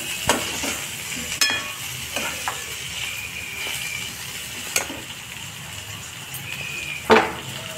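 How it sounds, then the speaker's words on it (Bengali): Slit green chillies and peas sizzle in a pan with fried eggplant, beans and potato for a beto shak curry, a steady soft frying hiss broken by occasional clinks of a stirring utensil against the pan. "এরপরে এই কাঁচা লঙ্কা চিরা ও মটরশুঁটিগুলো দিয়ে একটু ভেজে নেব।"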